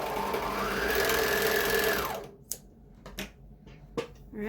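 A sewing machine stitches a t-shirt sleeve in a loud, fast, even whir for about two seconds, then stops, followed by a few sharp clicks and handling noises.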